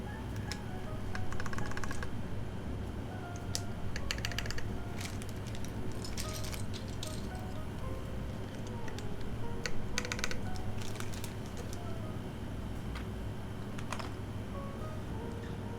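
Keys clack steadily on a Hyundai computer keyboard with a big enter key, a quiet run of close, irregular taps with brief pauses and a few louder bursts.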